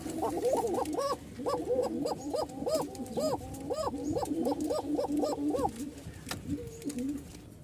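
A male pigeon coos repeatedly near a female, a rhythmic series of rolling, rising-falling coos, close and clear, with quieter cooing and rustling after it trails off.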